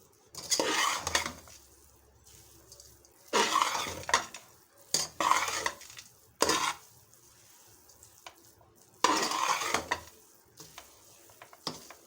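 A spoon stirs toasted magaz melon seeds into a boondi laddoo mixture in a pot, producing several separate bursts of scraping and clinking with quiet pauses between them, close and without speech.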